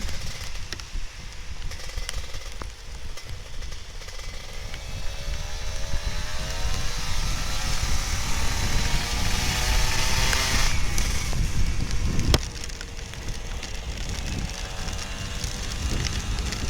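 An older Kawasaki Ninja RR 150 motorcycle ridden in heavy rain, its engine droning and rising in pitch through the gears beneath a constant hiss of rain and wind, loud and close throughout.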